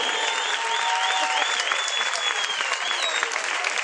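Steady, full audience applause at a 2012 playback event in Lakuntza, with even, dense clapping, whistle-like tones threading above it and no pause.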